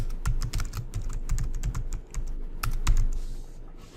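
Fast, close, clattering keystrokes on a computer keyboard typing a briefing name in steady bursts, with a brief pause in the middle and a final key tap.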